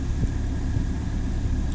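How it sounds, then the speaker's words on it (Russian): Renault Kaptur 1.6 engine after a cold start, running with a steady, dense mechanical drone and faint rapid ticking at close range, with no talk. "Вот после этого, вот через 2 недели появился вот такой шум двигателя."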